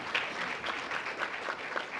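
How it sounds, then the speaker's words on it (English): Audience applause in a presentation hall at a museum visitors center, a steady wash of many hands clapping for about two seconds with no talk over it. "Let's just clap, if we would, for everyone here."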